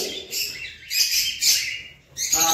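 Aviary birds, cockatiels among them, chirp in bright bursts with short gaps, close and fairly loud, with no talk.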